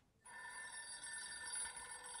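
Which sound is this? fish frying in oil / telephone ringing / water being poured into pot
telephone ringing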